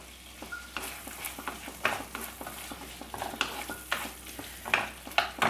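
Large chunks of capsicum sautéed with Kashmiri chili paste in a pan for chilli chicken, a steady sizzle broken by irregular scraping stirs, close and alone.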